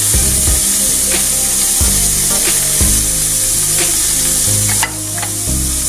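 Garlic sizzles loudly in a hot pan, with a steady frying hiss broken by repeated stirring scrapes and knocks, all close and continuous with no talk.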